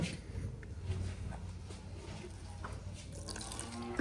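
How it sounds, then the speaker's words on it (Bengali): Water poured in a small stream into paprika and turmeric powder for a batter, with a faint continuous trickle and splash close by at low volume. "প্রথমে অল্প পানি ঢালবো যাতে তলা পেকে না যায়"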